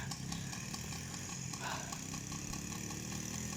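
A quad bike idles in a forest with a steady, close mid-pitched engine chug and faint regular knocking pulses. It holds the same level throughout with no voices.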